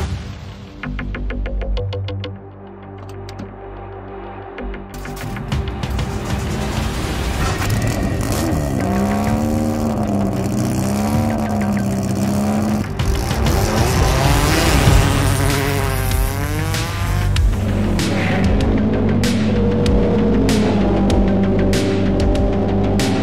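A Ford Escort race and rally car drives hard, its engine revving and rising and falling through gear changes, loud and close with rasping, buzzing tones and passing roars.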